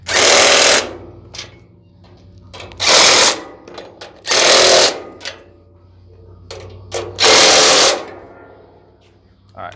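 An impact wrench tightens bolts on a welding skid in four loud, sharp bursts about a second long, separated by quiet gaps with faint clanks and handling noise.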